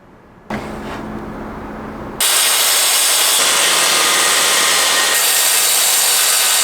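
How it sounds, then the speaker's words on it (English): On a yacht under restoration, a power saw starts with a loud whine, then cuts continuously through timber flooring along a clamped straight edge, a steady, close, harsh grinding roar. "clamp the straight edge, and then you can just run the power saw down it and you know it's going to be perfectly straight"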